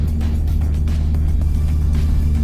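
A 2026 Toyota GR86 Yuzu Edition with a manual gearbox drives on a track, its engine giving a steady loud low hum throughout.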